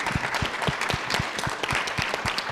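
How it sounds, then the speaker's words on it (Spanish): Audience applause at a STEAM education event, a steady crowd clapping with a dense rhythmic patter of hands that stays loud and even throughout. "a la cual también le pido un fuerte aplauso"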